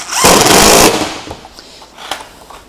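A power drill drives a screw into router sled rails in one short, loud, rattling burst, followed by a few faint clicks and handling knocks.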